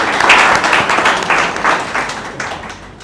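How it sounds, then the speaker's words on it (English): A room full of people applauds, dense clapping that fades gradually over a few seconds. "Can we have a crowd of clap for ourselves?"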